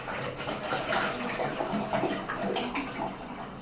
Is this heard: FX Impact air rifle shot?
no